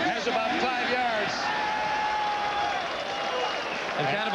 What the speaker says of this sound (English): kind of a pitiful cheer from the crowd here as they finally get a completion from their quarterback